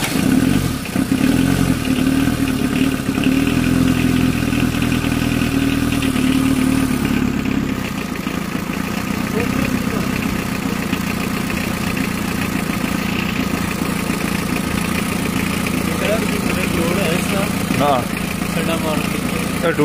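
A rebuilt Toyota 2C diesel engine starts and idles in a workshop, with a loud, steady, clattering diesel rumble that settles into an even idle midway through, while voices talk nearby.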